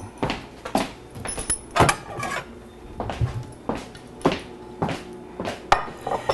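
Plates and dishes clattering as a plate is picked up from a stack in a kitchen, a series of close ceramic knocks and scrapes with short pauses between them.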